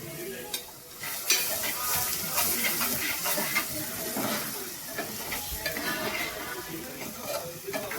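Tomato paste hitting frying onions in a pan, a steady close sizzle with scraping stirs and occasional utensil clicks throughout, no voices.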